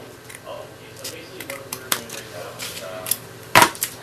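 Paper snips cutting the end of card paper while making a stamped birthday card: a few quick, crisp snipping clicks close by, with one sharper louder cut near the end, over quiet room noise.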